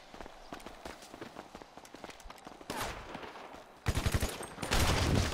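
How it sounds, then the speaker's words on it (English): Gunfire in GTA 5 Online: quick scattered shots early, then heavier bursts of automatic fire with footsteps running between them, growing louder toward the end, no voices. "let's start shooting each other again"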